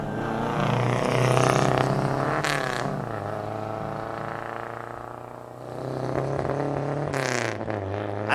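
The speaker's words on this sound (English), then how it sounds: "The car feels absolutely incredible under full throttle." A modified, period-correct Mercedes-Benz 190SL pulls under full throttle with a loud, continuous engine roar that rises and falls as it revs, heard close and with no voices.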